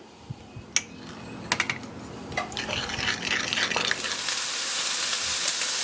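Thinly sliced mushrooms fry in a pan, starting with scattered pops and crackles that build into a steady, close sizzle, with occasional stirring clatter.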